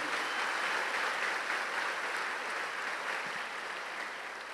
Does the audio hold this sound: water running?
no